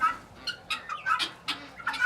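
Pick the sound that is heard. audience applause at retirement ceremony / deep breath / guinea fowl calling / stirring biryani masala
guinea fowl calling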